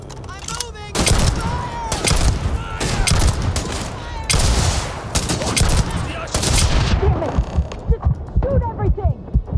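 Dense, loud gunfire from the video game Starfield, rapid overlapping shots and bursts filling nearly ten seconds, with low rumbling impacts beneath and thinning toward the end.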